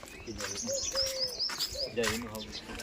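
Pigeons coo in soft repeated phrases nearby, with some chirps mixed in and people talking faintly underneath.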